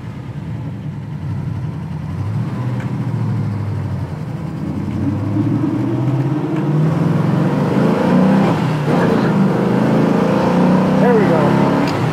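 A 1979 Pontiac Trans Am restomod pulls hard from inside the cabin, its engine note climbing in sweeping rises broken by quick dips at each gear change, loud and continuous, with voices talking over it.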